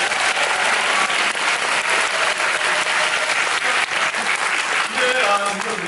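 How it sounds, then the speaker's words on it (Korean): A theater audience gives loud, sustained applause at the final curtain call of the musical 형제는 용감했다, a dense wash of clapping that carries on throughout, with a voice surfacing near the end. "박수 부탁드리겠습니다."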